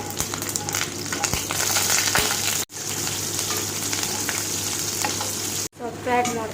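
Mustard seeds, green chillies and curry leaves crackle and sizzle in hot oil for a tempering, a loud, busy spitting hiss broken by two short cuts, with some scraping from stirring.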